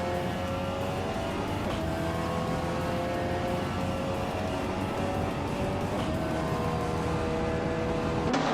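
Race cars in a racing game roar off the starting line together, a dense, steady engine drone with rising whine sustained throughout at moderate level.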